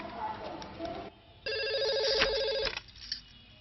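A telephone rings with a steady electronic trill in one clear burst of about a second, after a short stretch of quieter background sound.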